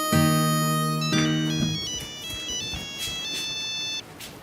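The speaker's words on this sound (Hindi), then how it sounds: "तुमने मेरा फोन देखा है क्या? अम्मी का फोन होगा।" A mobile phone ringtone plays a bright synthesized melody in repeating phrases, loud and close, with no voices.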